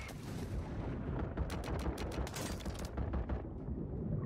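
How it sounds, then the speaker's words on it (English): Rapid pistol gunfire from the video game Warzone cracks in a quick run of sharp shots near the middle, set against a dense rumbling game soundscape, fairly faint overall. "Wait, I can go shoot him with a pistol."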